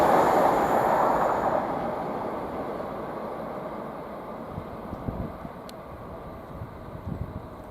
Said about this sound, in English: we've got a 91 heading from Leeds to London and an IET heading the opposite way